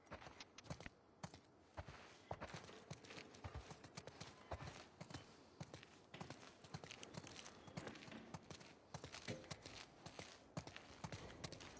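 Horses' hooves clip-clopping at a steady walk in the video game The Last of Us Part II, a continuous rhythmic stream of close, crisp hoof strikes, quiet overall and free of talk.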